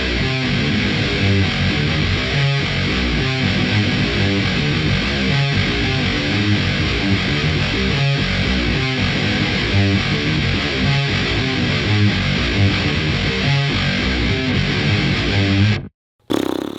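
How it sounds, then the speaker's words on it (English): A Schecter 8-string electric guitar tuned to drop E chugs through heavily distorted riffs, loud and dense with rhythmic palm-muted hits, cutting off abruptly near the end. "I'm gonna probably put it in drop E, and let's just have a few riffs, shall we?"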